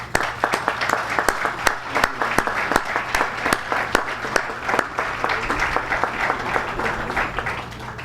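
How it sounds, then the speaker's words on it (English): Audience at a security company's regional awards ceremony applauding a police inspector, sustained crowd clapping with distinct sharp individual claps standing out, moderately loud and steady over a low hum, with faint voices underneath. "Please applaud Inspector Monlouis."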